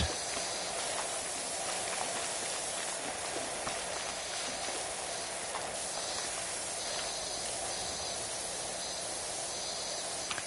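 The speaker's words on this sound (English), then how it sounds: "she's just spraying regular water" A pressure washer in Power Wash Simulator 2 sprays regular water, a steady, dense hiss that runs unbroken for the whole stretch at an even level, with no voices over it.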